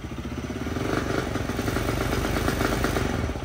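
A small Polaris RZR 170 engine running on choke, a close, steady rough putter with a fast, even chattering beat that holds through the clip.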